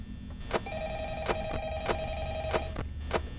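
A telephone rings repeatedly in a horror video game, heralding the Phone Guy's call: a steady electronic ring over a low hum, punctuated by sharp periodic clicks or knocks roughly every two-thirds of a second, with no voices.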